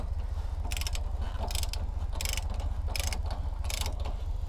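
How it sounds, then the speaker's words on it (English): A socket ratchet tightens bolts on an Andersen no-sway trailer hitch, making five evenly spaced bursts of crisp ratcheting clicks over a steady low rumble, close and alone without talk. "And then we'll take our socket and then we want to see about four threads."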